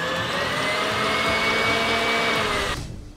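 Electric mixer whipping cold heavy cream with powdered sugar and peppermint extract: a steady, loud whirring whine that runs continuously and then cuts off near the end, with no one speaking.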